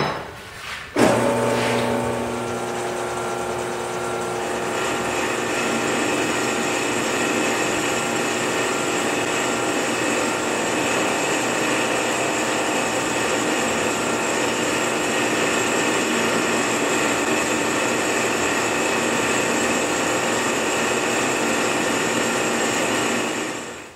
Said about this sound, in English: turn, a recess that's as wide as possible and just deep enough to get a completely continuous cut